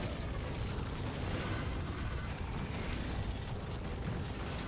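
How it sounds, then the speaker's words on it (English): A roaring explosion in Factorio plays out as a loud, dense, continuous rumble that fills several seconds without letting up, close and heavy, with no one talking over it. "Explosion."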